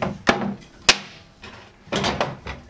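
Large format extension table of an IQ dry-cut tile saw being pulled up and slid out, a few sharp plastic-and-metal knocks and clunks followed by a short rough sliding scrape, close and brief.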